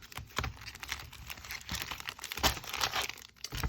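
Magic: The Gathering Core 2021 booster packs being shuffled by hand, a close, irregular run of crinkly foil rustles and soft clicking slaps, with no talking.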